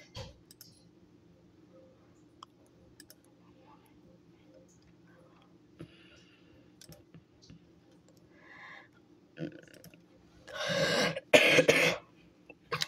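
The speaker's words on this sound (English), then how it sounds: "Sorry about the coughing." After a quiet stretch with scattered faint clicks, a person coughs and clears their throat in a few loud, close bursts near the end.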